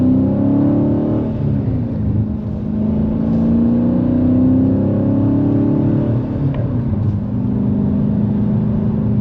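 A 2023 Dodge Challenger with a 6.4L Hemi and six-speed manual accelerates with a steady, deep engine drone rising in pitch from inside the cabin, loud and continuous.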